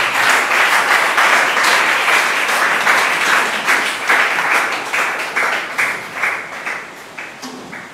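Church congregation applauding together after a French sermon, a dense, loud wash of clapping that runs steadily for several seconds before thinning into scattered, uneven claps near the end.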